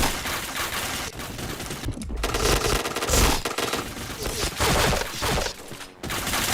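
Sustained machine-gun fire in a first-person shooter video game, loud rapid bursts nearly continuous across the stretch with short pauses, faint talk mixed underneath.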